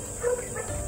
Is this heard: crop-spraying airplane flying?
no